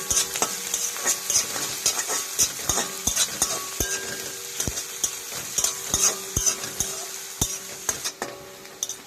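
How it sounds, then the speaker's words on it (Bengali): Chopped onions frying in a pan, a continuous bright sizzle punctuated by rapid repeated clacks and scrapes of a spatula stirring against the metal, close and steady with no voices. "এবার এর মধ্যে দিয়ে দেবো পেঁয়াজ কুচি। এবার ভালো করে ভেজে নেব।"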